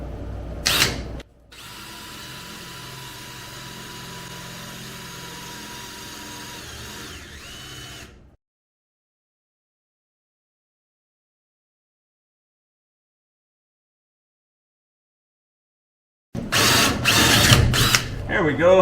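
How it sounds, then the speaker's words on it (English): Power drill with a small bit boring into a steel bumper during a horse trailer bumper installation: a short burst, then a steady whining grind for several seconds, silence, and another loud burst of drilling at the end. "This is a smaller bit, and I just want to see if it'll penetrate this steel."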